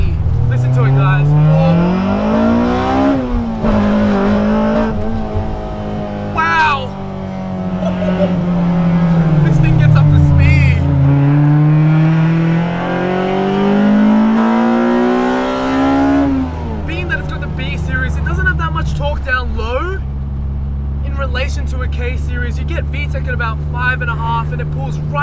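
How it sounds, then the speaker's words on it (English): A Honda Civic EG6 SiR engine revs loudly up close, climbing and falling in pitch through repeated rising sweeps toward a high-rpm fuel cut, with a voice talking over it at times. "Listen to it, guys."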